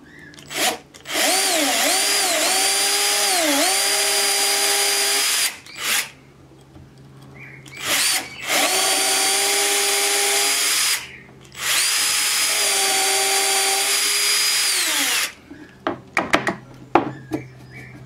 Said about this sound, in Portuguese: Eu vou furar e depois escarear.